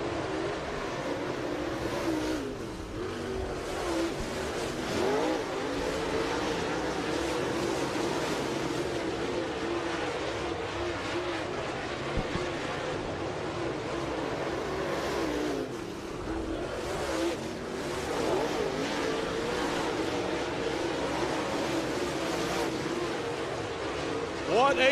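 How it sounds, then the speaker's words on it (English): Race cars roar around a speedway in a steady, distant drone of engines rising and falling as they pass, with an announcer talking over the track noise throughout. "As I'm watching one of the best races I have seen in a long time here at the Speedway."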